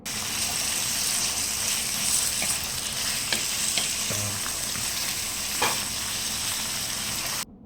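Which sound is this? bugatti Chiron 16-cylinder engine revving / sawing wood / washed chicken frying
washed chicken frying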